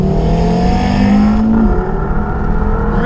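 A 395bhp Audi RS3 accelerates hard in heavy rain, held flat in second gear; its engine roars loudly and steadily close by, climbing in pitch, with no voices.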